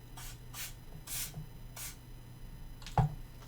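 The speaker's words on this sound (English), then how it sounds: "I might as well spray these guys too." Four short hissing bursts from a lubricant spray can, evenly spaced and close by, followed by a sharp click.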